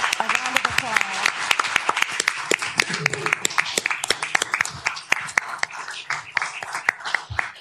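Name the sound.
audience applause for police officers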